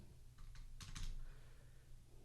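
Typing on a computer keyboard while entering spreadsheet formulas: a few soft key clicks, then a quick cluster of sharper taps, all faint over a steady low room hum.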